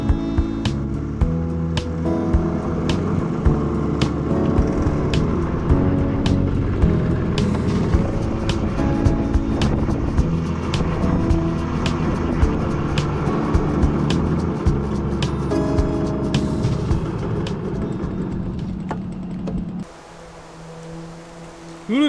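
Simson mopeds ride along an empty country road toward the Czech border, a continuous buzzing two-stroke engine drone with shifting pitch and wind rush. It is close and steady, with no talk, and falls quieter shortly before the end.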